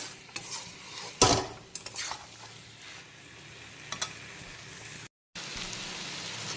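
Potatoes stir-fried with spices in a pan for a ladyfinger curry, a soft continuous sizzle broken by a sharp metallic clank and scattered spatula scrapes, with a brief dropout near the end.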